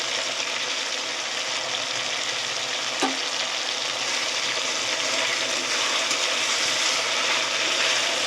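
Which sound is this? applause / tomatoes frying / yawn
tomatoes frying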